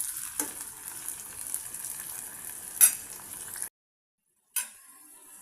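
Tomatoes with salt are stirred in a hot pan, giving a soft steady sizzle broken by a few scraping spoon strokes, a short silent gap, then the frying resumes.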